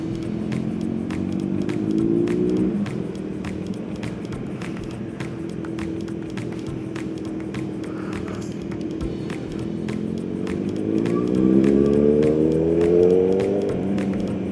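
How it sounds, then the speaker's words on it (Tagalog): A motorcycle with dual exhaust hums steadily while moving, revving up twice with rising pitch over a fast regular ticking, no talk. "Sarap, dual exhaust."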